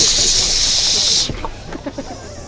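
A voice imitates a cat's hiss with a loud, breathy rush of air lasting about a second, followed by a few quiet soft sounds.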